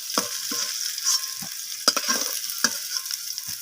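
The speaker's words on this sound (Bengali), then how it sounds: "এরপর ওই একই তেলের মধ্যে আমি ফোড়নে দিয়ে দিলাম গোটা জিরে আর গোটা গরম মশলা, এলাচ, লবঙ্গ, দারচিনি, আর দিয়ে দিলাম একটা তেজপাতা" Whole cumin, cardamom, cloves, cinnamon and a bay leaf crackle and sizzle in hot oil left from frying potatoes, with close, continuous hissing punctuated by sharp pops and spatters, no voices.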